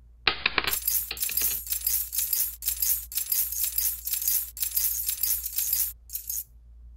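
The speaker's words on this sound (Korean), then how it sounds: "그리고 헌금함에 많은 동전을 쏟아 넣었습니다." A rapid, continuous cascade of metal coins clinks and rattles as a large handful is poured into an offering box, bright and close, lasting several seconds before a final short trickle.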